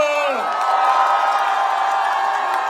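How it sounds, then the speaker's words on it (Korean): Crowd at a Pohang outdoor presidential campaign rally for candidate Lee Jae-myung cheers and shouts in a loud, continuous wash, with a voice trailing off at the start. "여러분의 뜨거운 박수와 함성으로 맞이해 주십시오."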